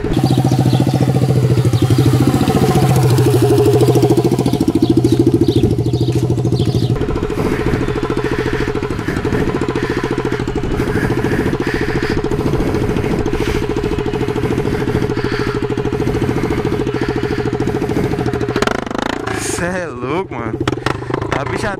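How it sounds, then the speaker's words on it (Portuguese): A Honda XRE 300 with an open exhaust pipe idles continuously, a throbbing, chopping engine beat heard under someone talking throughout. "ela na lenta, a bicha já tem um som doido demais, fica parecendo um helicóptero"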